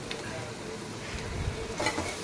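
Onions and masala frying in a pan for spicy mutton kheema, a constant close sizzle with scraping stirs of a utensil running through it.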